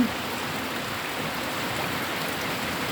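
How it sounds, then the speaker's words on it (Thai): Rain falling steadily on a rainy day, an even, continuous hiss of drops on surfaces at moderate level with no voices. "ก็ฝนตกอย่างนี้นะคะ"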